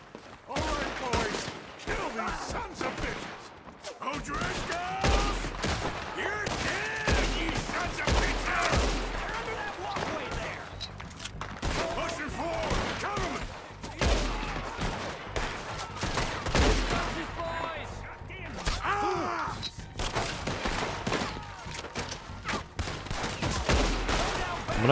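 Red Dead Redemption 2 gunfights crackle with rapid volleys of gunshots, bursts firing in quick clusters throughout, moderately loud, while someone talks over the shooting now and then.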